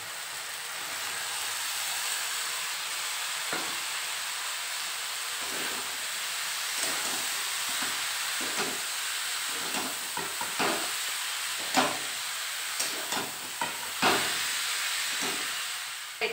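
Cut bottle gourd cooking in fried spice masala, a soft steady steaming hiss with repeated stirring scrapes and clacks that come more often toward the end, fairly quiet, no voices.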